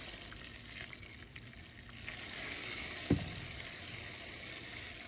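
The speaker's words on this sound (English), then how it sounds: "It's slowly pouring the grain in." Milled grain for a 10-gallon batch of pumpkin beer slowly poured into mash water, a soft, faint continuous hiss and patter with a brief louder splash partway through, gentle stirring underneath.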